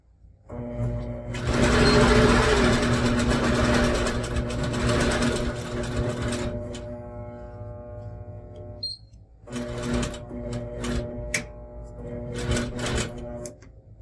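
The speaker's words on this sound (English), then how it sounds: "Stitch up to 1/4 inch away from the quilt top, and then I did a back and forth, just a little tacking stitch" A longarm quilting machine stitches binding onto a quilt with a short back-and-forth tacking stitch. Its close, loud motor whirs and clatters steadily, briefly drops off near the middle, then runs again.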